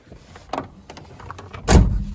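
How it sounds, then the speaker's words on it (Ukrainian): A Daewoo Lanos car door is pulled shut from inside, with a few soft clicks and rustles leading up to one solid, close thump. "Так що закриваємо дверки наші."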